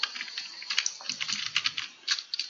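Rapid typing on a computer keyboard: a dense, uneven run of light plastic key clicks heard close up, with no voices.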